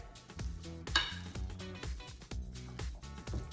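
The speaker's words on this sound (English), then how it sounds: "So I use this potato masher, and I just take it and mash it, and I leave some chunks inside of it" A potato masher works ripe avocados into chunky guacamole in a bowl, giving a run of close, rhythmic squelching presses with light clinks of metal against the dish.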